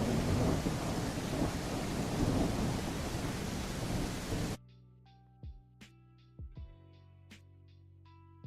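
Heavy rain and a thunder rumble from an Unreal Engine 5 game's weather system roar as steady broadband noise for about four seconds, then cut off abruptly, leaving sparse digital tones and soft clicks.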